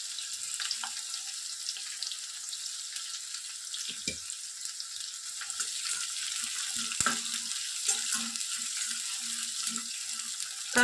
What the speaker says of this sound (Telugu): వెల్లుల్లి రెబ్బలు కాస్త వేగిన తర్వాత నేను ఇక్కడ 2 మీడియం సైజ్ ఆనియన్స్ని కట్ చేసి వేసుకుంటున్నాను.